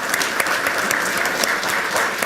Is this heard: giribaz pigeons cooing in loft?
no